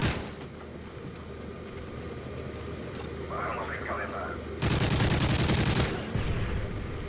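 Automatic rifle fire from Call of Duty Modern Warfare 3 (ACR 6.8) rattles in a dense, loud burst mid-clip over a steady game background, and someone talks casually throughout.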